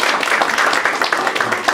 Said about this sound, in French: Est-ce qu'on peut juste l'applaudir encore?